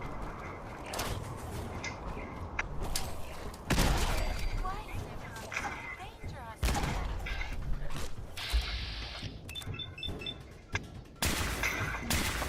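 Gunfire in Fallout 4 while wandering Nuka World: several loud sharp shots at irregular intervals amid mechanical clicks and clanks, over a busy game background.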